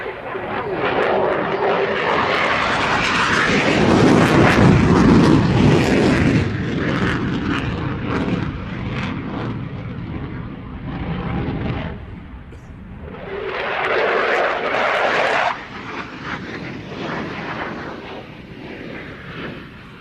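An F-16 fighter jet flies an airshow demonstration under a low cloud ceiling, its loud engine roar swelling, fading and surging again as it passes, with broad rumbling thunder throughout.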